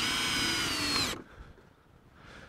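Power drill runs loud and close with a steady high whine for about a second, then cuts off abruptly, leaving a faint windy background.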